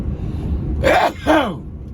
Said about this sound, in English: Ooh, excuse me. I sneezed